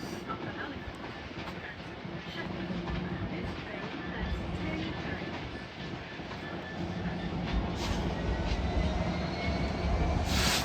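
A Class 66 diesel locomotive leads a freight train from Mountfield Sidings through Clapham Junction, its broad rumble building steadily and growing louder toward the end, with faint wheel clatter and distant background noise.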